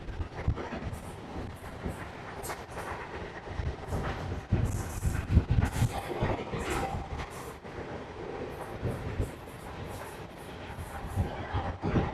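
A MEMU passenger train rumbles steadily along the tracks between Katwa and Ahmadpur, with a constant low roar, rattling carriages and occasional clatter, close and continuous with no talking.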